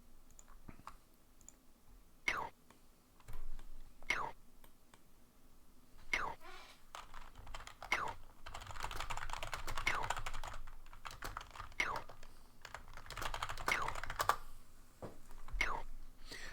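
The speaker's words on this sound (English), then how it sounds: "I wonder how loud my typing comes across on the stream." Typing on a mechanical computer keyboard during a game livestream: close, crisp key clicks arrive in irregular clusters and single taps, with soft murmuring speech underneath at times.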